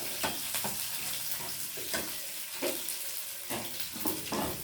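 Onions, shallots and green chillies fry in hot oil for a fish curry, giving a steady, close sizzle with repeated clatter from stirring.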